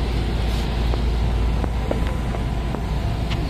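The condenser fan motor of a Ford Everest with a grounded fault runs in a continuous, steady whirring hum, with faint clicks and ticks scattered over the drone.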